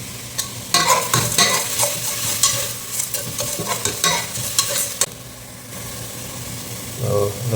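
Onions stir-fry in ghee for a Tamil Nadu-style mutton dum biryani, with loud scraping stirs and bursts of sizzle in an irregular rhythm, easing off briefly before another stir near the end.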